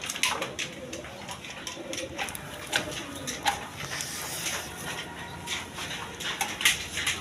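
A pair of red Garra pigeons coo softly in a cage, with repeated low calls over a busy, noisy background of rustling and other birds.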